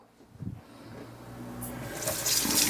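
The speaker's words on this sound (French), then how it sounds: "On rince un petit peu." Tap water running and splashing into a sink while ingredients are rinsed during a vinaigrette recipe, the flow starting softly and growing steadily louder and brighter for a few seconds, close by with no talking.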